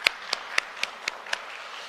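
Hands clap at a press conference in sparse, evenly spaced claps, about six in under two seconds, crisp and fairly close.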